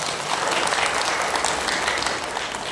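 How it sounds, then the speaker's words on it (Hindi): Audience clapping in sustained, dense applause at a spiritual discourse on the Bhagavad Gita, loud and continuous throughout with no voices over it. "ताली भी बजाओ।"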